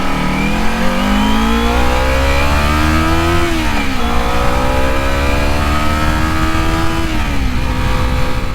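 A Kawasaki Z250 motorcycle engine revs hard at high rpm and climbs in pitch, dropping briefly twice as it shifts gears, then pulls up again. The engine is loud and continuous, with no voices.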